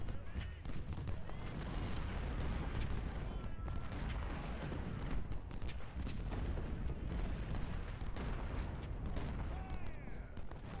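Dense, continuous musket volleys and booming artillery fire from the Civil War strategy game Ultimate General: Civil War, Battle of Chancellorsville, crackling steadily with overlapping shots throughout at a constant loud level.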